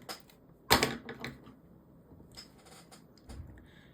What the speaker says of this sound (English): You see this wire is quite long, so I'm also going to be giving it a little snip.